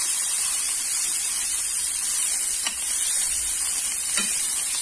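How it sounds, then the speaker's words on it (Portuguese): Meatballs browning in a pan, a steady, close hiss of frying fat filling the whole stretch, with a couple of brief scrapes as the meatballs are turned. "Ó, já tá dourando. Vamos virar todos os almôndegas."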